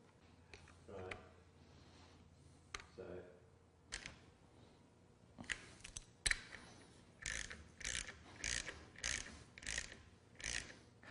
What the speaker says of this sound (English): we want to tighten them down to 50 inch-pounds